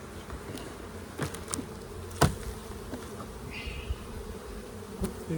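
Honey bees hum quietly inside an indoor paper boost hive, a low continuous drone. Several soft knocks and sharper clicks stand out, one near the middle, with no one speaking.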